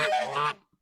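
A goose honk plays as a podcast sound drop: one loud, nasal, drawn-out honk lasting about half a second, then a brief silence and the start of a second short honk.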